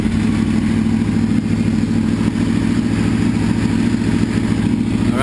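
An Aprilia RSV4 APRC motorcycle engine idles close by with a steady, loud, even throb and some mechanical clatter, and no voices over it.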